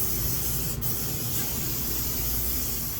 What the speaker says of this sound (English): Get a nice little spray going on here just to initial.